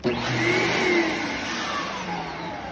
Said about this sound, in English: this vacuum sounds pretty good